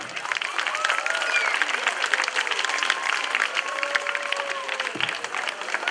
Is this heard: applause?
yes